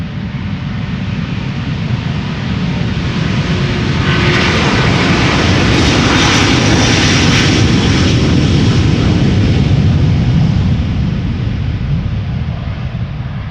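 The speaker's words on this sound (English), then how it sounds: "Delta Airlines flight 57. A330neo, Salt Lake City is where it's going to go to." Delta Air Lines Airbus A330neo jet taking off at Amsterdam Schiphol, its engines a loud, continuous roar close by that swells and peaks midway before holding steady to the end.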